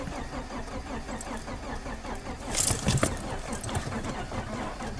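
A BMW E36 starter motor cranks with a weakening battery, giving a repeated, labored chugging rhythm that carries throughout, with a brief metallic jangle midway, close and moderately loud.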